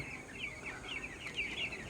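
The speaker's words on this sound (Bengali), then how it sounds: "দেখতে পাচ্ছেন ব্রয়লার মুরগির বাচ্চা।" Young broiler chicks of the Nourish company, about ten days old, are kept in a flock of 200 on a farm. They chirp in a continuous faint high cheeping with many overlapping calls.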